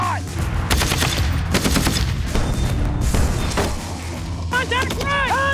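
Loud bursts of automatic fire from the Iwo Jima Franken-Gun on a firing range, rapid rattling volleys with short pauses, with shouting voices around the shooting.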